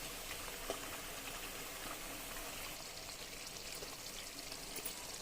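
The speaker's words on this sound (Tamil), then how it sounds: "பாருங்கள் எண்ணெய் கொதிக்கிறது." Continuous soft bubbling and sizzling of hot oil as thattai vadai fry, steady and close, with no voices.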